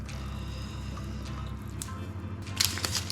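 Thick cheesecake filling being poured into a tin for an apple crumble cheesecake with a Biscoff base, a soft steady glugging pour with faint drips and clinks near the end, quiet and close.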